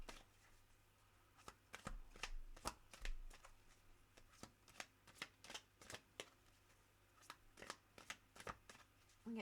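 Tarot cards being shuffled by hand during a reading, a steady run of crisp riffling flicks and slaps close up, with short pauses between bursts in a quiet room.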